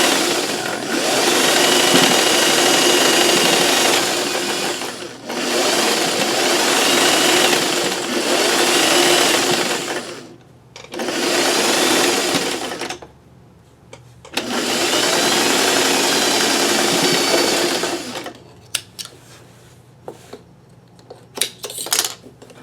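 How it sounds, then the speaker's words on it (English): A sewing machine stitches two-inch quilt squares together for a king-size quilt top. It runs in long steady motor bursts separated by brief pauses, close and fairly loud, with no talking. "So then I just sew."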